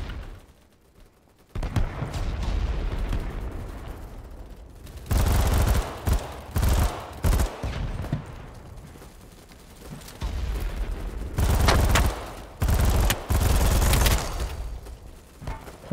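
Kriss Vector SMG gunfire in the video game BattleBit: several rapid full-auto bursts, loud and close, separated by quieter gaps of ambient battle noise.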